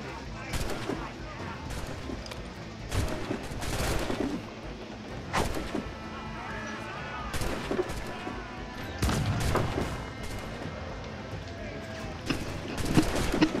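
Ship cannons fire in a naval battle in Assassin's Creed IV Black Flag, a series of sharp booming blasts at irregular intervals, some in quick clusters, over rumbling game sound and occasional voices.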